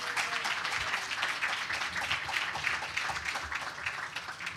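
An audience at an awards ceremony applauds a senator with steady, sustained clapping that fills the room at an even level throughout.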